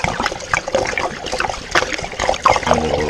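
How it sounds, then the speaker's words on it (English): Ice cold water glugging out of a spun jug into a glass carboy, a loud close splashing trickle with gurgling bursts throughout. "taking the jug, dumping it into the carboy, ice cold water"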